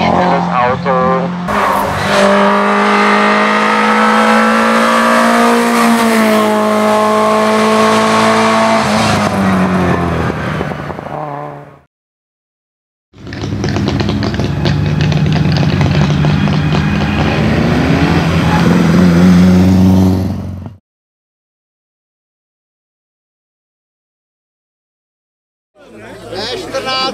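A 240-horsepower Škoda Felicia race car climbs a hill-climb course, its engine screaming loudly through rising and falling revs and gear changes over two long passes, then cutting to near silence before a brief return at the end.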